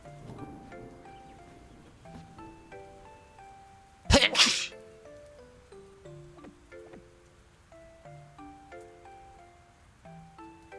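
A single sharp, loud sneeze bursts out midway over quiet chiptune game music from a DK64 Randomizer session.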